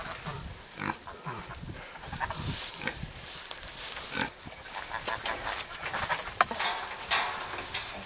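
Pigs grunt and squeal repeatedly inside a newly finished homestead barn, close and fairly loud, with scattered bird chirps and shuffling in the background and no talk.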